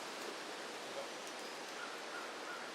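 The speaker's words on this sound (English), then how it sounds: "Sounds like the waterfall's right up here too." A nearby waterfall on a hiking trail gives off a steady, faint broadband rush of falling water, with no voices and an even level.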